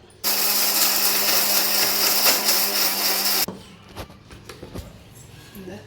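A kitchen mixer grinder jar whirs loudly while grinding whole garam masala spices, a steady motor roar for about three seconds that cuts off abruptly, followed by faint clicks and handling of the jar.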